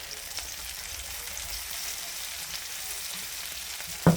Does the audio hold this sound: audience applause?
no